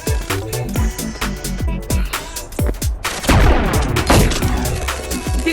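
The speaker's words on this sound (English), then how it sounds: "Dude, I'm shooting you." Gunfire in an arena battle video game: rapid, loud shots crack in a steady rhythm, then a denser burst of fire erupts about halfway through and continues to the end, with no talking.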